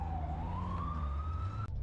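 An ambulance siren wails with a single rising tone that sweeps upward and holds over a low vehicle rumble, then cuts off abruptly near the end.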